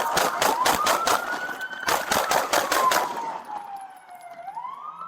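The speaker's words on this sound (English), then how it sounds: "Shots fired! Shots fired!" Rapid bursts of gunfire during a police officer-involved shooting, two quick volleys of loud cracks with a wailing siren rising and falling beneath and continuing alone after the shots stop.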